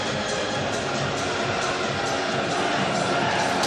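Steady, dense roar of a football crowd of about 38,000 at Elland Road during an FA Cup fourth-round match between Leeds United and Liverpool, a continuous wash of noise with no distinct voices standing out.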